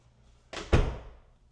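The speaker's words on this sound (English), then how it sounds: "And then I see a door, so we must open it." A door in a luxury model house opens with a sharp latch click followed by a heavier thunk, brief and close, in an otherwise quiet room.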